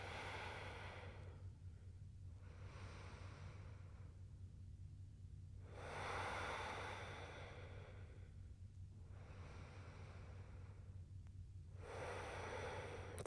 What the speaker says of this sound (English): Slow breaths here